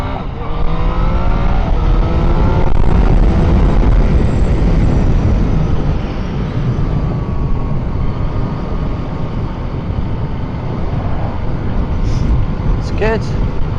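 A 2017 Yamaha MT-09 motorcycle engine pulls hard on a test ride, its pitch sweeping upward through several quick-shifter gear changes, loud and close under steady wind roar, with a voice talking over it.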